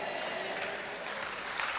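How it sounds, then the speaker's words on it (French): Church congregation applauding together, a steady dense wash of clapping that fills the whole moment at moderate level without a break. "finissez d'applaudir"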